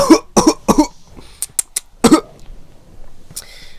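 Someone coughs in several sharp bursts: three quick coughs, then a pause, a few lighter clicks and another strong cough. It sounds close and loud indoors, like a child's play scene, with no speech.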